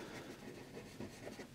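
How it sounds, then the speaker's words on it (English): A graphite pencil shades across paper in a landscape drawing, a faint, steady scratchy rasp as the strokes change direction. "I'm moving my pencil in different directions,"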